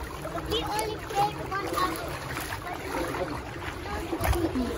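Flood water splashes and churns on a street as someone wades or drives through it, a steady wet rush with occasional louder splashes while people talk over it.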